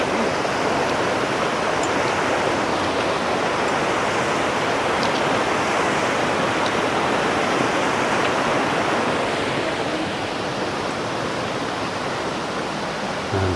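A mountain river torrent in Berchtesgaden National Park near Ramsau, Germany, rushes with a loud, steady roar of churning water that holds unbroken throughout, with no voices.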